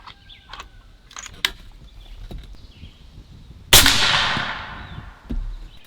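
A Bintac MCAR 7000 PSI air rifle fires a single loud, sharp shot with a hissing decay that trails off over about a second. A few faint clicks and handling taps come before it, and a soft thud follows.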